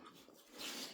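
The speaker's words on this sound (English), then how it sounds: "That's my PTSD trauma dog" A dog whimpers softly in a quiet indoor setting, giving one short, faint, breathy whine that lifts toward the end.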